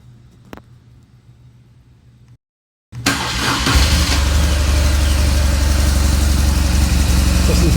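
A stock-exhaust 2008 BMW R1200GS motorcycle, revived after long storage, cranks and fires up after a brief pause, then settles into a loud, steady, throbbing idle, close by and without talk.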